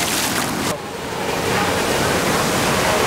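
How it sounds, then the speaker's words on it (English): Steady broadband roar of surf washing onto a Waikiki beach in rain, continuous and fairly loud, with wind rumbling on the microphone and no voices. "And we're back at the ocean."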